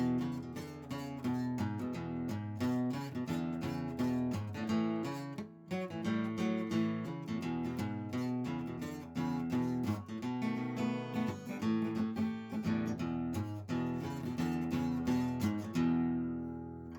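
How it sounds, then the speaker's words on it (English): A guitar plays a walking bass line through a 12-bar blues in E, a steady run of plucked low notes under chords, moderately quiet, ending on a ringing final chord with no talk. "We're doing another walking bass line in E this time"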